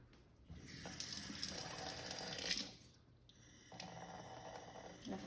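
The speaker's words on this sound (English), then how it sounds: "I'm gonna fill that all the way with water" Tap water runs from a faucet into a test tube at a lab station, a steady gush that pauses briefly near the middle and then resumes, close and fairly quiet, with no talking over it.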